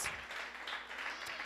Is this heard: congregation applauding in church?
yes